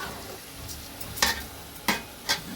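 Vegetables fry in plenty of oil for vegetable pulao, a soft sizzle broken by three quick scraping strokes of a spatula stirring the pan.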